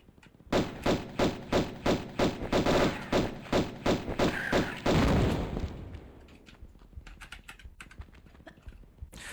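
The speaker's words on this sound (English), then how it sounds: "Sometimes they're explosions." Rapid series of sharp blasts and thuds from enemies in Tomb Raider Gold Remastered, about a dozen evenly spaced loud bursts followed by a heavier explosion and trailing debris clatter, with no talking.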